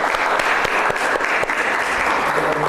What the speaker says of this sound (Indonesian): Tepuk tangan untuk tim pro.